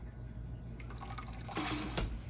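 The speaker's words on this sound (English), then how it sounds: "Fill this jar up with water." Water running from a tap into a glass jar, faint at first and then swelling into a brief louder gush of filling liquid near the end.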